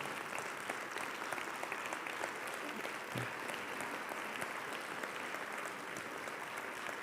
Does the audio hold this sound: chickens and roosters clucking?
no